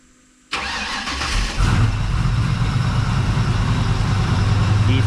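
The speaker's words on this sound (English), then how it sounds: "He sounds very nice. that's a cold start." The engine of a K-code Ford Mustang cold-starts with a short crank and catches, then settles into a loud, rough, steady idle that carries on alone.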